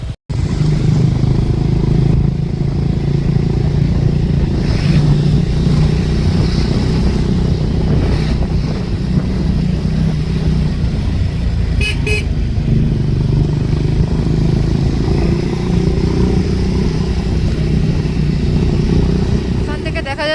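A motorbike rides along a mountain road entering Lachung village in North Sikkim, its engine droning loud and steady with rattling and wind noise throughout, while riders talk over it.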